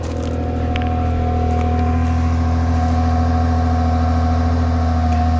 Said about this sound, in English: Come listen to this exhaust.